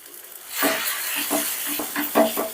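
Beaten egg with gram flour sizzles in a pan over medium heat, a steady hiss broken by repeated scraping stirs of a spatula, about half a dozen strokes in quick succession.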